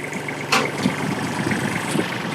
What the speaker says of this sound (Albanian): E mbyllni traktorin.